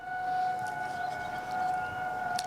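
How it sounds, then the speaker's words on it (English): A tornado warning siren being tested wails steadily in the distance, a sustained two-tone outdoor drone holding at an even level throughout over faint ambient noise. "Nothing makes me feel at home like hearing a tornado siren being tested."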